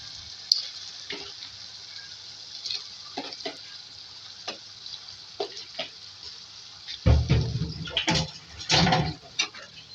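Chicken liver frying in a karahi with masala, giving a steady close sizzle broken by scattered clicks and stirring taps, with louder bursts of spitting toward the end.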